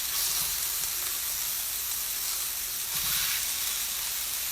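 Sirloin steaks frying in a hot pan give a steady, close, dense sizzle that holds for several seconds with a slight swell near the end.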